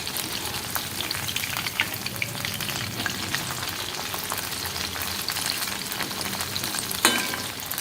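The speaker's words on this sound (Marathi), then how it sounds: "परतून घ्यायचे जसे।" Drumsticks (moringa pods) frying in hot oil in a pan, a steady dense sizzle with occasional scraping stir strokes, close and continuous with no voices.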